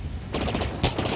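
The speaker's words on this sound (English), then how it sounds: "He's shooting at you" Gunfire in Halo Infinite, a short, fairly faint burst of rapid shots that comes in two quick clusters.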